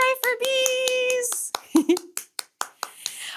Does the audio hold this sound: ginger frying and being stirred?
no